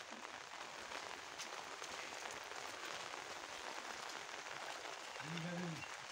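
Light rain falls steadily over paddy fields during traditional rice planting in Konkan, a faint, even hiss of drops throughout, with a brief voice near the end.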